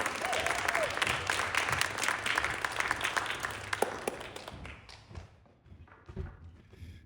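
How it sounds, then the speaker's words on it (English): Audience applause at an evening literary event celebrating writers, dense clapping from a seated crowd that tapers off near the end, with a few scattered claps and faint murmurs. "So you can keep clapping because here he is, Mr. Tom House"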